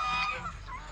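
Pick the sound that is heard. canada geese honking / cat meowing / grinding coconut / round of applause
canada geese honking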